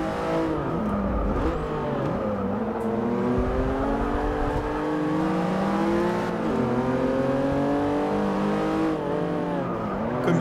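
A Dodge Viper's engine in Forza Motorsport 6 revs continuously, its pitch climbing and dropping across repeated gear changes, loud and close with tire noise underneath and no talking.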